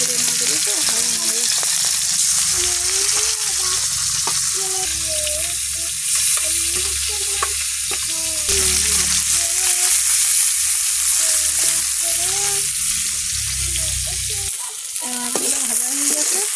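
Fish sizzles and spits in hot oil in a pan, a loud continuous frying hiss throughout, with a voice talking faintly underneath.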